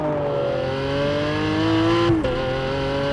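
A Lamborghini Aventador Roadster's 700-horsepower V12 revs up with a rising, close, loud engine note, then briefly drops as it shifts gear before climbing again.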